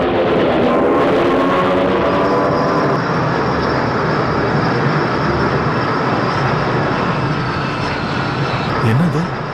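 A steady airplane engine drone fills a movie scene of an aircraft in flight, loud and continuous throughout, with people talking over it.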